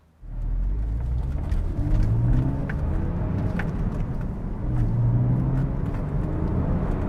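A 2008 Porsche 911 Carrera S Cabriolet drives with a steady, close engine drone and road rumble, holding a fairly constant pitch with slight rises in revs throughout.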